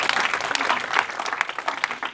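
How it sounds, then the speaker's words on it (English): A church congregation claps continuously during a Sunday prayer and prophetic service, forming a dense, steady patter of many hands with a few faint voices mixed in. "Clap unto the Lord."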